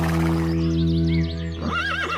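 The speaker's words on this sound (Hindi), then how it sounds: "परंतु कुछ भी हो, है तो ये घोड़ा ही ना" A horse gives a loud, close whinny with a long, shaky, wavering neigh that fades at the end, and no voices are heard.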